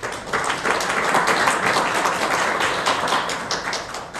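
Applause from an audience at the founding general meeting of a Korean opera association, a steady, dense spread of clapping filling the whole stretch at an even level, with no voices over it.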